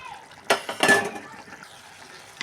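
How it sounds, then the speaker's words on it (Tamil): Jackfruit seeds are stirred into thick, oily gravy in a pan: a few sharp clinks and scrapes of a spoon against metal over a soft sizzle, close and loud at first and then quieter. "இந்த டைமுக்கு நம்ம பலாக்கொட்டையை மிக்ஸ் பண்ணிக்கலாம்."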